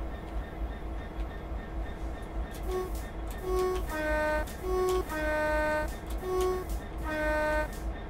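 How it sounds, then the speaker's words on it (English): A commuter train in the video game Train Sim 19 rumbles past steadily, with several loud horn blasts sounding in repeated bursts over the low rolling noise. "And there goes a commuter train."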